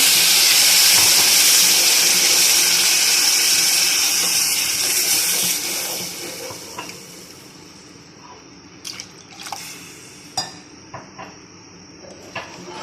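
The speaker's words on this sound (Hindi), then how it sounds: "अब हम इसके अंदर 3 कप पानी ऐड कर लेंगे।" Water pours into hot roasted semolina and sugar for halwa with a loud steady sizzling hiss for several seconds, then fades to quieter bubbling and scattered drips and clinks.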